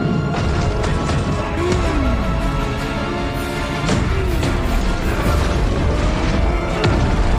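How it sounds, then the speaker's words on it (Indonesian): Heavy booming blasts repeat in a dense, loud barrage, like cannon fire, with continuous rumbling and crackling throughout and no talking. "Lalu ayah Juicy pun datang dengan meriam FF. Ayah Juicy pun menembak Redman bertubi-tubi."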